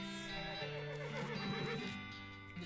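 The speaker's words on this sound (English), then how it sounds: "Name your horse Umbra? Yes. Umbra the horse" A horse in the Western-themed game West of Loathing gives a long, rising and falling whinny that is clear and close, with no voices over it.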